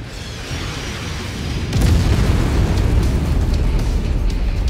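In the Mechwarrior 5 video game, an artillery garrison blows up. A low rumble of background noise suddenly swells into a heavy, sustained boom and roar that stays loud to the end.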